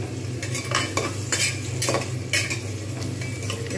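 Onions frying on full flame inside a thick pressure cooker, a steady sizzle broken by repeated scraping strokes of a spoon against the metal, close and without talk.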